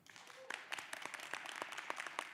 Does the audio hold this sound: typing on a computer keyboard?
no